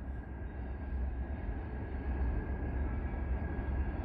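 A very long train rolls steadily past at Nenana, a continuous low rumble and rattle of wagons, moderately loud and sustained without break, with no voices heard.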